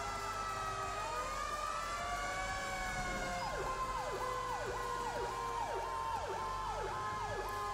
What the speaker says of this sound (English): Yes, my sirens are on my controller right now.